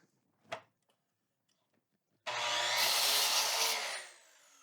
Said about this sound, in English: I don't notice any bogging down as I use this saw with, even this 5/4 pressure-treated wood